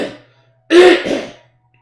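A character in the video game Final Fantasy XIV gives a short vocal rasp, then after a brief pause a louder, harsher cough and throat clearing, close and alone.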